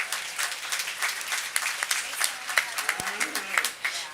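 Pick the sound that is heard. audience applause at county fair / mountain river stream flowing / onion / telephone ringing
audience applause at county fair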